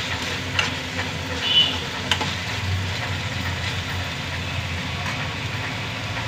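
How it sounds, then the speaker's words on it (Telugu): Punukulu fritters frying in oil in a pan, stirred now and then: a steady sizzle and bubble with a few light scrapes and clinks of the spoon, close and even throughout. "వేగుతున్నాయి కదా, మళ్ళీ ఒకసారి కలుపుకుంటే"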